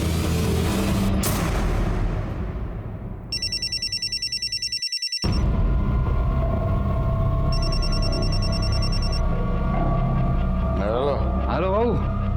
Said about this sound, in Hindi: इतनी रात को क्यों फोन किया रे?